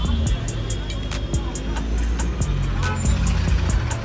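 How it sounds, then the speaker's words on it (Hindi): Jammed road traffic in Delhi near Tilak Nagar on a hot day, cars and trucks idling close by in a steady loud rumble, with a few sharp hissy bursts like air brakes cutting through the drone. "बस, और इतना जाम लग रहा है इधर,"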